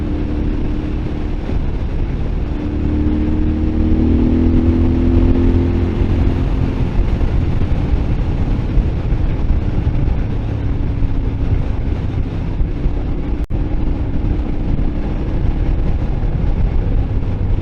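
A Moto Guzzi Griso motorcycle ridden on narrow country lanes, its engine giving a steady low rumble with a slight rise in revs midway, heard close with constant wind noise.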